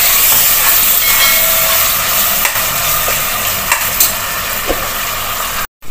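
Coarsely ground fresh masala roasts in a hot pan for pulao, giving a loud, steady sizzle with brief stirring scrapes, then cutting off sharply at the end.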